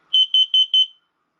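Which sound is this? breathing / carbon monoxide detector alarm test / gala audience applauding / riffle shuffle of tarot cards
carbon monoxide detector alarm test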